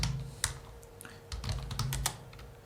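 Quick, irregular keystrokes on a computer keyboard as code is typed during a programming lesson, with a few louder taps among soft, close clicks and no talking.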